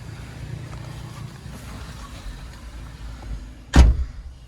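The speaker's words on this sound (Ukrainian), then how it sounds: "Панорама працює." The electric panoramic roof of a Renault Scenic runs with a faint, steady motor whir inside the car, ending in a sharp, loud thump as it stops.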